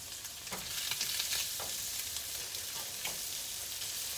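Shrimp sizzle and fry in a pan, cooked separately for risotto, with a steady close crackle and a few soft stirring scrapes, with no voices.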